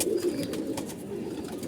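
A black gola pigeon coos in a low, steady murmur, close and fairly quiet, with faint background noise throughout.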